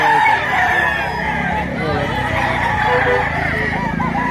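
A rooster crows amid the busy clamor of the Lipa, Batangas chicken market, its call blending with steady crowd noise and nearby talk, while other fowl cluck in the background.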